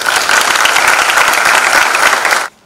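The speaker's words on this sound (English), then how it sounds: "with a round of applause, let's welcome the Chief of Army Staff to the podium" Loud, dense applause from a military staff college audience welcoming the Army Chief of Staff to the podium, steady for over two seconds and then cutting off abruptly.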